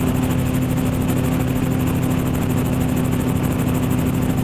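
A gyroplane's engine at rising throttle as the rotor spins up, a loud steady drone with a constant low hum and fast rhythmic pulsing high up.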